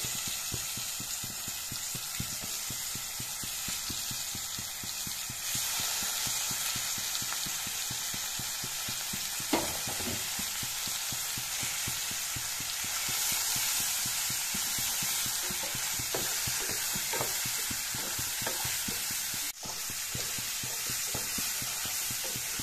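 Chicken meat sizzles and fries in a pan for a chicken curry, with dense crackling and regular scraping strokes as it is stirred, steady and close throughout.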